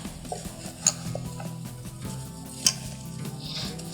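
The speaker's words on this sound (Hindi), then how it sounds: "यहाँ पर आपने इसको मिक्स करना है" Pickle and spices being stirred in a pot, with a soft continuous scraping and mixing texture, a low hum underneath and two brief clinks of metal against the pot.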